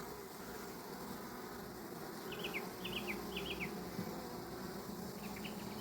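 Honeybees buzz faintly around an opened beehive, a few short insect whines rising over a steady low background hum, with no voices.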